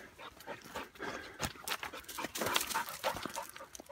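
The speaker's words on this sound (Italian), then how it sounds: "Ma è arrivato il cane qua." A hunting dog runs through snow during a partridge hunt, with quick, fairly faint footfalls and panting breaths in an irregular rhythm, up close with no talk.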